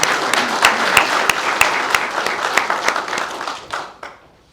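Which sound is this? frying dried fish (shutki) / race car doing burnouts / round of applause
round of applause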